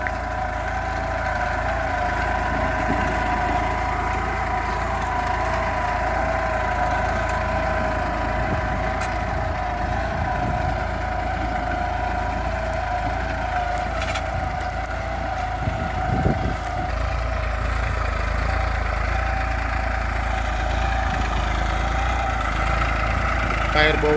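New Holland 3230 Super Plus 45 hp tractor, 2021 model fitted with a two-furrow plough, its diesel engine running steadily near at hand with a constant low throbbing rumble, and voices talking intermittently over it.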